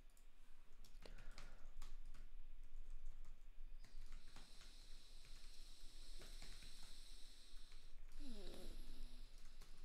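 Rapid typing on a computer keyboard, irregular bursts of close, crisp key clicks with short pauses, fairly quiet and alone.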